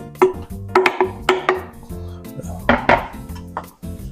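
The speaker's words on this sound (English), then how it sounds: "And we'll give that a little stir, just a little one." A utensil stirs garlic in butter in a pot, making a series of close, sharp metallic scrapes and clanks against the pot in an uneven rhythm, about eight distinct knocks with short pauses between them.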